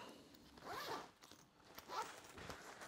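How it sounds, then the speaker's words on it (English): A zipper on a soft sleeve case for an LCD football tactic board is pulled shut in two quick, close strokes, quiet and alone. "zip it up"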